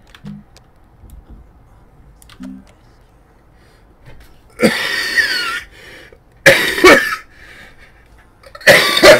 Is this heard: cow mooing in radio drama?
no